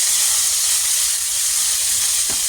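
Beef strips searing in a hot pan, a loud, dense, steady sizzle and hiss filling the sound, close up with no speech.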